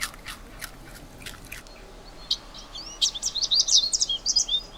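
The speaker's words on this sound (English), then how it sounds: "chipping sparrow" A chipping sparrow sings: soft, scattered chirps give way to a rapid, bright run of high trilled notes over a quiet outdoor background.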